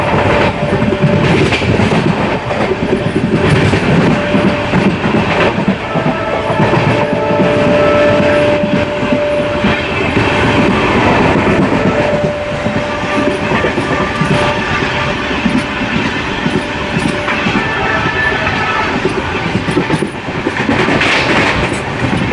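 The Pamban Express, a new train on the Rameswaram–Tambaram route, rolls along with loud, continuous clickety-clack of wheels over rail joints, a steady rumble throughout and a faint horn tone midway.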